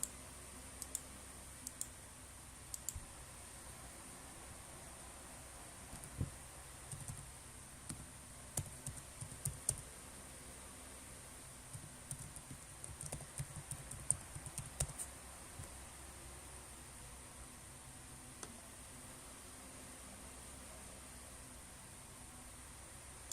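Soft clicking of a computer keyboard as a PayPal email address is typed, irregular bursts of quiet keystrokes over faint background hiss.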